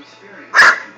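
A single sharp Bernese Mountain Dog bark rings out close by, with a low murmur of background noise before it.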